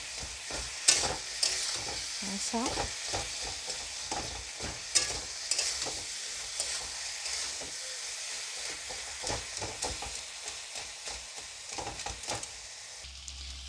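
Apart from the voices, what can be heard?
potatoes and cabbage being stir-fried in a pan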